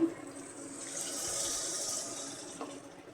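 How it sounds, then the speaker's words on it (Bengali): A little water is poured into a cooking pan holding frying onions, spices and fish, giving a steady hiss and splash that swells mid-clip and then fades over about three seconds. "দিয়ে দিলাম সামান্য পানি"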